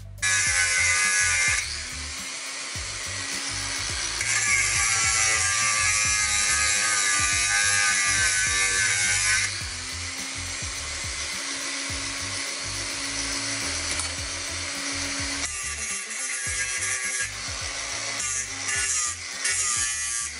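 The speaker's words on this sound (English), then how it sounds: "we'll just use a grinder and cut through there" Angle grinder cutting through a metal mounting tab on a Nissan R32 RB26 power steering reservoir, a loud, steady high-pitched whine that shifts in pitch as the disc bites, with brief pauses, heard alone.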